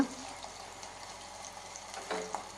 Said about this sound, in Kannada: ಉಳ್ಳಾಗಡ್ಡಿ ಹಾಕಿ ಅದನ್ನೊಂದು ಸ್ವಲ್ಪ ಫ್ರೈ ಮಾಡ್ಕೋಬೇಕಾಗತ್ತೆ